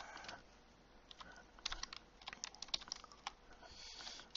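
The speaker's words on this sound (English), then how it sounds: "Excuse my typing, I'm really crap." A computer keyboard being typed on in irregular bursts of quick, soft clicks during a Houdini Python scripting session, faint and close, with no voices.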